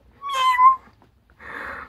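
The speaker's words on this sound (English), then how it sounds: "Love your little kitten, Mel." A kitten gives two short meows in a row, the first higher and more tonal, the second breathier, both close and clear against a quiet room.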